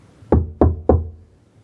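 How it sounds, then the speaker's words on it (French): Three loud, evenly spaced knocks on a closed door, each a heavy, booming thud close by, followed by silence. "À nouveau, et beaucoup plus fort, retentit le toc-toc-toc."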